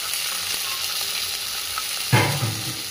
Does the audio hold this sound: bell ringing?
no